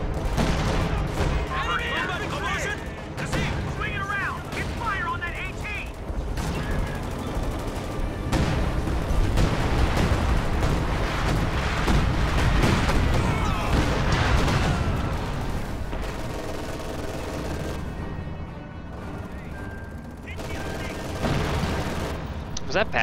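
Mechanized artillery fire during a World War II strategy game battle with Jagdtiger and Sherman tanks, with repeated booming shots and dense gunfire rattling through the whole stretch under ongoing commentary.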